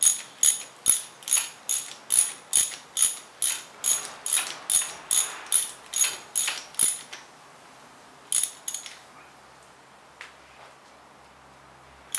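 Ratchet wrench clicks steadily while tightening a spark plug on a Yamaha Tenere 700 motorcycle, about fifteen close, evenly spaced clicks followed by a pause, two more clicks, and faint metallic handling.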